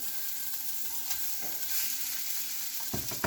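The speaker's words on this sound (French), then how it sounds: "On les met dans la poêle et on les cuit suivant comment on les aime, bien cuits, saignants." Beef meatballs frying in olive oil in a pan, a steady close sizzle broken by spatula scrapes and knocks, with a low hum running beneath.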